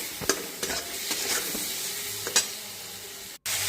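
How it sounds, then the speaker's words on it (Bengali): Potatoes sautéing in a pan with ginger, cumin and chili paste, salt and turmeric give a soft, close sizzle broken by several scraping stirs of a spatula, with no voices over it. "এখন আদা বাটা, জিরে বাটা, লঙ্কা বাটা আর স্বাদ মতো লবণ আর হলুদ গুঁড়ো দিয়ে ভালো করে কষিয়ে নেব।"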